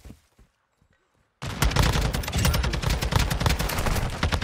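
Dense, sustained automatic gunfire from a competitive shooter game, bursting in loudly after a near-silent first second and a half, then continuing as rapid overlapping shots without a break.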